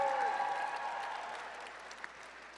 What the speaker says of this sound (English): How about a round of applause right there?